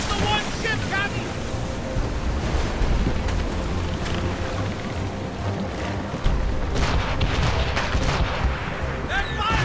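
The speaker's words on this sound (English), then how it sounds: "They're firing, sir!" Royal Navy warship cannons boom at sea in Assassin's Creed Rogue, heavy blasts rising out of a constant wash of waves and wind, with a sharp report near the end and distant shouting voices.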